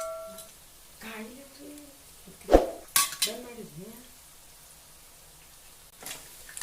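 Whole cardamom, cloves, black peppercorns and a piece of cinnamon dropped into a pan of butter and oil for dum aloo, giving a few sharp clinks and rattles against metal, with a person talking between them.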